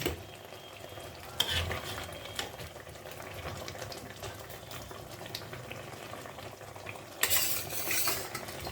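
Pabda fish cooking in white oil in a pan over a raised gas flame, giving a steady low bubbling and sizzling with occasional stirring clatter and two louder bursts of spatter near the start and end.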